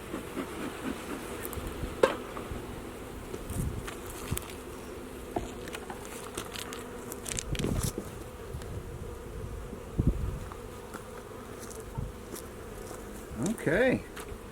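Honey bees buzz around an open hive during a spring inspection in Colorado: a continuous, close drone of many insects with occasional louder passes, plus faint handling noises of frames and no clear talking.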